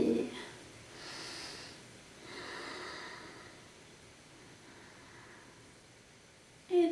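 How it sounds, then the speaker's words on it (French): Slow breathing in and out during an intermediate-to-advanced yoga class, soft airy breaths swelling and fading in a few long waves, close and quiet, with a brief voice at the end. "On inspire et on expire."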